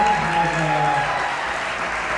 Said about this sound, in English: And if we can have a round of applause.